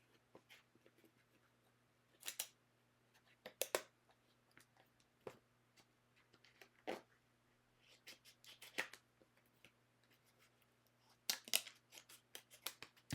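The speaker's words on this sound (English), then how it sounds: "let me just cut off this corner" Scissors snipping the corner off a paper card-making sheet: a handful of short, crisp cuts and rustles scattered at uneven intervals, close and fairly quiet, with faint background hum.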